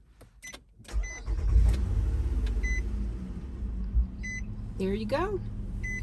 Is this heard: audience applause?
no